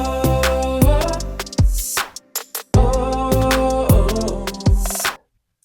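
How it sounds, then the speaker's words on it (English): Self-tracked choir vocals for a Christian pop song, layered from several takes, sing sustained chords over a full backing mix with drums and bass, cutting out briefly twice before ending abruptly. "So the first thing that I did was I just tracked my own choir in, and it sounds like this."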